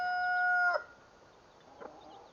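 A rooster-like crow or drawn-out squawk from a chicken, then a short soft cluck after a pause, fairly close.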